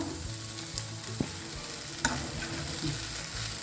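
Fasting noodles gently stirred in a pan, a steady close sizzle broken by a few soft scrapes and clinks of the spoon, no voices.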